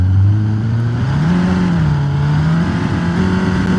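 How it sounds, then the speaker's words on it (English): Engine of the Cherrier Vivace, a gasoline car in the BeamNG.drive driving game, revving loudly and steadily up and down in pitch, close up, with no talk throughout. "Hear that powerful engine."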